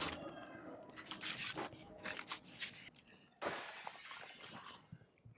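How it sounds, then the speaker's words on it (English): Glass shatters repeatedly in State of Decay 2, a series of loud crashing, tinkling bursts with a fresh burst of breaking panes midway, over low game ambience. "I'm hearing a lot of breaking glass going on."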